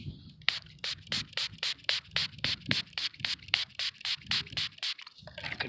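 A blackened Standing Liberty Quarter coin dug while metal detecting is rubbed between fingers, a quick regular series of about fifteen short scratchy strokes, close and fairly quiet.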